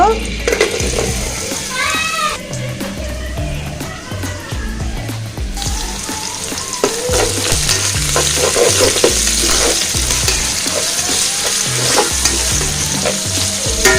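Chopped onion hitting hot oil for a Bengali potato and catla fish curry, with a loud, continuous sizzle and repeated stirring scrapes through the whole stretch.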